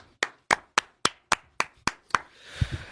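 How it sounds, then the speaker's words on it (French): Eight sharp, evenly spaced hand claps ring out close and loud in a steady rhythm, followed by a brief swell of broader crowd noise and a murmur at the end during a comedic awards ceremony. "Et ça s'applaudit."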